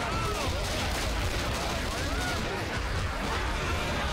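Continuous dense gunfire and combat noise in the zombie shooter Left 4 Dead 2, as survivors fire at a jockey, a steady loud barrage with voices mixed in.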